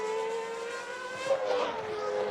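A Williams Formula 1 car from 1997 losing control after front brake failure, its high engine note holding steady and then wavering as tires skid and squeal near the midpoint, loud and close with no voices.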